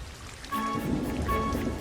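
Steady rain falls in a constant hiss, fairly close and moderate in loudness, with a slight swell partway through and no voices.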